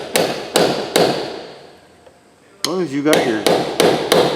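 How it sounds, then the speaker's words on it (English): A hammer strikes a chisel on a 1952 Cat motor grader in sharp, ringing metallic blows, three in quick succession, then a brief spoken remark, then four more strikes in steady rhythm. "you didn't hit it with that special colored chisel"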